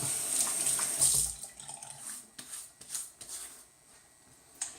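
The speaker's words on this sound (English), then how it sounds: "Let me just wet the face real quick" Water runs steadily from a tap into a sink as the face is wetted before a shave. There are small splashes and handling noises, close and fairly quiet, with no talking.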